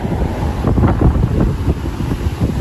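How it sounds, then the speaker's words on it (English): Strong wind buffets the microphone in loud, rumbling gusts, continuous and close, with no voices heard. "now it's windy"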